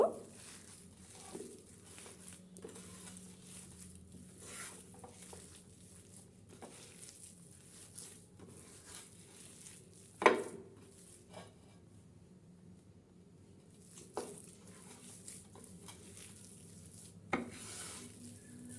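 Cutlet mixture is worked by hand with breadcrumbs in a bowl, giving soft faint squishing and rustling with occasional light knocks against the bowl, quiet and close, with no talk.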